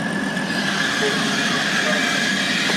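A Class 180 train squeaking as it pulls into Doncaster station, a thin high squeal riding over broadband rumble and wheel noise, loud and near, with no voices.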